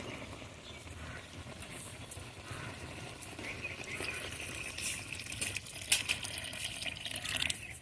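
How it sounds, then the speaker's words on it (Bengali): Water poured into a pan of mustard-paste fish curry with tomato and potato for the gravy, a steady low splashing and trickling that swells slightly toward the end, close by with no talk. "এখন আমি ঝোলের পানি দিয়ে দেব"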